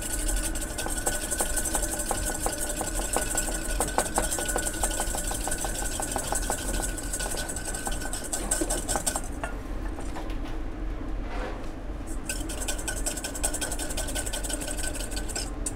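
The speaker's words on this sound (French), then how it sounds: "on va venir émulsionner avec l'huile d'olive" Olive oil whisked into a vinaigrette for a scallop and beetroot dish, making a rapid, even metallic clicking against the bowl that runs steadily, stops briefly partway through, then resumes.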